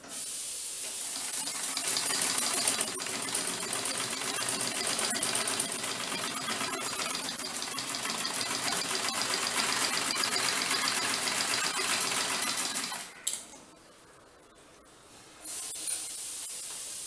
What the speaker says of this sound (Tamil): இப்போ இத நான் தச்சு உங்களுக்கு காமிக்கிறேன்